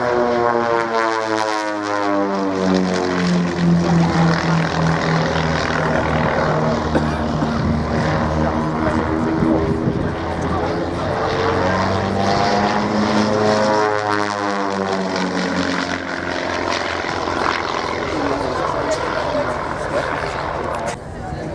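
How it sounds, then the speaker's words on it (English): A two-seat Spitfire flies at an airshow, its propeller engine droning loudly and steadily while the pitch sweeps up and down as it passes and maneuvers. A commentator talks over the engine. "The two-seat Spitfire"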